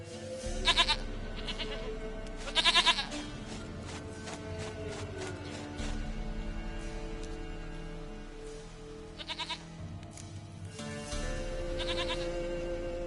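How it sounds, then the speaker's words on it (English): Goat in The Witcher 3 bleating in several short, nasal bursts spread apart over steady low game ambience, fairly close. "goat of mine, dearest, sweetest goat"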